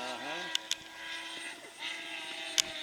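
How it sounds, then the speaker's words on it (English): An electric RC airplane motor on a 4-cell battery, with a speed control that cannot keep up. Its whining tone rises and wavers, chatters, cuts out briefly and then returns, with a few sharp clicks. "It's cutting off. Yeah, the speed control can't handle it."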